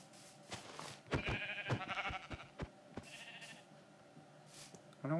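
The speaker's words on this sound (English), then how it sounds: "But I'ma kill those sheep." Blocky Minecraft sheep bleat several times in quick succession, close and clear, with short sharp game sounds in between and quiet gaps toward the end.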